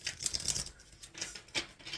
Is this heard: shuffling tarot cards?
yes